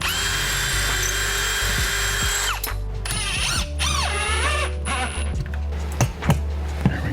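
A power drill driving a bolt into a Ryobi Stowaway workbench, with a whirring motor and ratcheting clicks that stop and start in short bursts, close by and fairly loud, with no talking.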